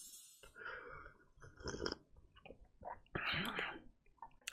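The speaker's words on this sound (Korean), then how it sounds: "일단 볶음밥과 계란 한 입을 먹겠어요" Close-up eating of kimchi fried rice with a soft-boiled egg: quiet chewing, smacking and soft crunches in short bursts, with faint breathy sounds between bites.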